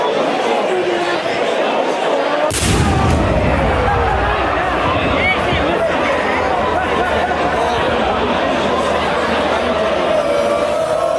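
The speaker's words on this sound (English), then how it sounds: "Gun sounded." A single sharp gunshot cracks out at a rugby league match, sudden and loud over steady crowd chatter and hubbub that carries on throughout.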